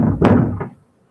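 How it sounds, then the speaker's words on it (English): A heavy, loud thud against a door as dogs bang on it, one dull impact with a second knock soon after, then silence. "Dogs are about to beat down the door."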